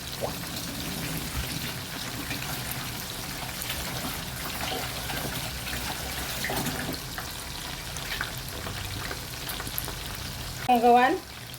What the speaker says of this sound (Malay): kita goreng sampai dia warna keperangan ya